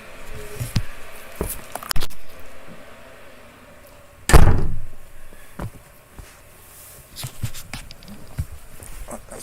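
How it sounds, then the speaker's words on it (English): A door being shut indoors lands as one loud, sharp thud midway through, with scattered small knocks, jingles and handling noises before and after in an otherwise quiet room. "I'm going to close the door to make it a little less noisy here."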